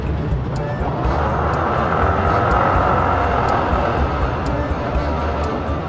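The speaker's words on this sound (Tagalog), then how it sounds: "Sa unang takbo, unang start ko, parang hindi ko gusto kasi parang maingay yung makina." A motorcycle engine running on oil with a nano-moly additive gives a loud, close, steady mechanical drone with faint regular ticking throughout.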